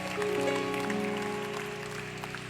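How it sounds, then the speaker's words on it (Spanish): Church congregation applauding, a sustained wash of clapping that starts strong and slowly fades, with sustained musical tones underneath. "Vamos a darle un aplauso al Rey de Reyes y al Señor de Señores."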